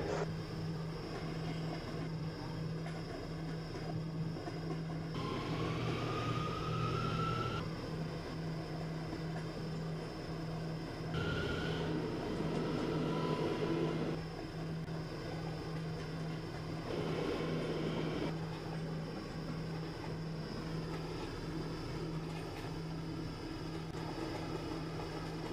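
Rumbling subway train track noise from a video game running on an R179 car, a steady low drone with a constant hum and shifting mid-range whines, continuous and moderately loud with no talking.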